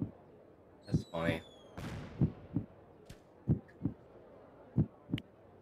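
Fireworks bursting in the Tomodachi Life video game, a series of separate pops and booms at a moderate distance, roughly eight irregular bursts with a whistling rise near the start, over a soft background.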